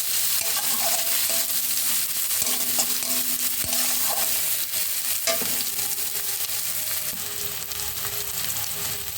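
Steady sizzling of chopped onion and chilli frying in oil in a pan, close and even, broken by scattered spatula knocks and scrapes, the hiss easing slightly toward the end.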